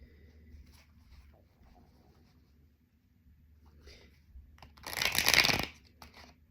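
Tarot cards get a quick shuffle, one brief crisp riffle burst near the end after a stretch of faint, quiet handling.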